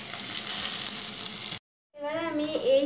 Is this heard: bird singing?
no